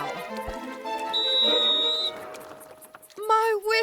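A shrill whistle blast from the video game PRIM sounds once over game music, a clear sustained tone lasting about a second, followed by more musical notes.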